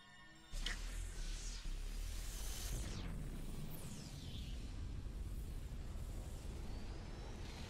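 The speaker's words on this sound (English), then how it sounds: "Supernova explosion." Supernova explosion in Super Mario Galaxy, starting with a sudden heavy rumbling blast, followed by sweeping whooshes and a long, sustained roaring rush that fades only slightly.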